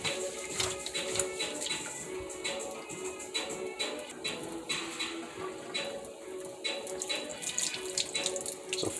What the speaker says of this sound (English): And usually I wash the rice like 2 times.